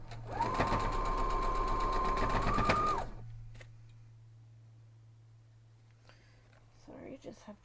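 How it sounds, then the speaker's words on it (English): A sewing machine stitching through a quilt block, a steady close whirring hum for about three seconds before stopping, leaving a low background hum and faint handling noises. "Now we're going to head over to the sewing machine."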